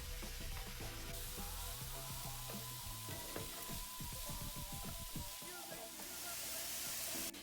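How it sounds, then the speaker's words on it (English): Mushrooms, celery and other vegetables sautéing in a pan, a loud, dense sizzle with a busy run of clicking, scraping stirs through the middle, continuous from start to finish. "We'll add this all in and continue to saute for another 5 to 7 minutes until the vegetables are nice and soft."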